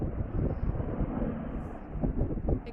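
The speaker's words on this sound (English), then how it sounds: "And yes, there is a plane overhead." A plane passes overhead as a steady, broad low rumble with wind-like noise throughout, fairly constant in level with no speech.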